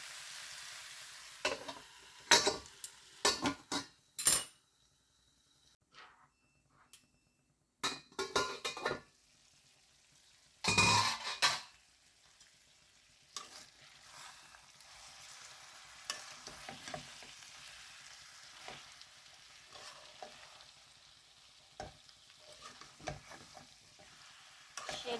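Vegetable stalks fry in spices, heard as scattered loud scrapes and clanks of a spatula against the pan between quieter stretches, with a faint sizzle running underneath and no talking.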